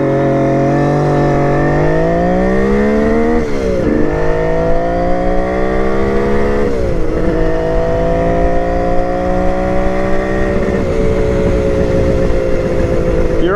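A warm engine idles after its carburetor fuel screw has been adjusted, a steady close drone that swells and dips a few times as the idle speed shifts, heard alone.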